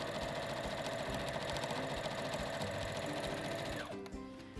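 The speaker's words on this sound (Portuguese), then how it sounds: "eu vou colocar bem esticadinho e você costura. E aqui é bom para treinar a costura reta" Sewing machine stitching a straight seam on stretched fabric, a fast continuous mechanical whir with rapid needle rhythm running loud and close for about four seconds before slowing and stopping.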